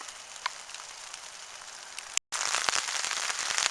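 Rain patters on a hammock tarp, a soft steady hiss with scattered drops that grows noticeably louder and denser after a brief gap, no voices.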